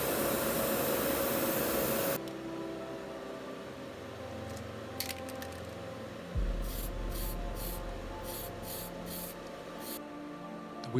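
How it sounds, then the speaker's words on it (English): Mr. Hobby primer sprayed onto a 1/35 scale Academy Merkava Mk2 model tank, a steady hiss after a loud opening burst, with short repeated puffs near the end. "Primed with Mr. Hobby primer."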